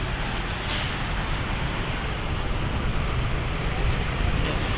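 Heavy traffic rumbles steadily along a busy roadway by Manila Bay in the Philippines, a dense, continuous wash of engine and road noise with a brief hiss like an air brake near the start and no talk.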